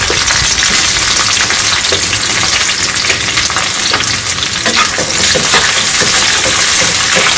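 Chopped onion sautés over medium heat in a pan for South Indian chutney, a loud, dense, continuous sizzle with scraping stirs throughout, close up and without speech.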